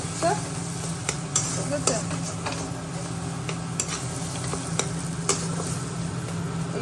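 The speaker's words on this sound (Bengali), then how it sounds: "এখানে লোটে মাছের ঝুড়ো রান্না হচ্ছে" Bombay duck fish frying in a pan for a jhuro dish gives a steady, close crackling sizzle dotted with small pops and clicks, with a brief quiet voice near the start.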